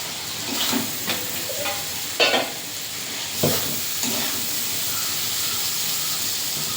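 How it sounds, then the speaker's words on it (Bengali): Vegetables with salt are stirred in a pan on a village kitchen stove, giving loud scraping and sizzling with a few brief louder bursts, followed by a steady hiss of steam once water goes in. "পরিমাণ মতন লবণ দিয়ে একটু নাড়াচাড়া করে হালকা জল দিয়ে দেবো।"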